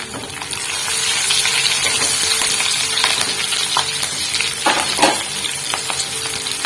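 Chopped green chillies dropped into hot oil for a dal tadka, a loud continuous crackling sizzle heard close up, with bursts of spattering and a brief clatter of stirring.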